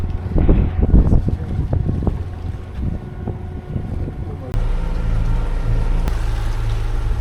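A sailboat motoring across open water on a calm, sunny day, with a steady low engine drone and water rushing along the hull, plus wind buffeting the microphone, growing steadier and louder partway through.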